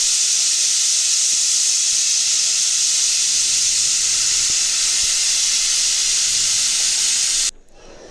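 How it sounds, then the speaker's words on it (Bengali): A pressure cooker on a gas stove lets off a loud, steady rush of hissing steam close by. The hiss holds for several seconds and then cuts off abruptly near the end. "তো প্রেসার কুকারে সিটি মারা হয়ে গেছে"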